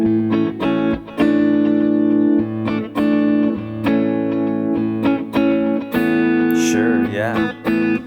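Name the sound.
guitar playing a one-chord progression with effects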